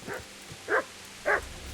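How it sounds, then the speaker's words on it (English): A dog in the medieval role-playing game Kingdom Come: Deliverance barks three times at an even pace, close and fairly loud over quiet background ambience. "Shut up, dog."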